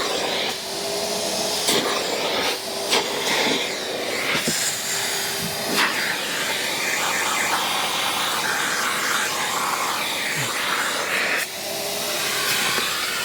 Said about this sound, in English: Then I use the vacuum to remove the dirt.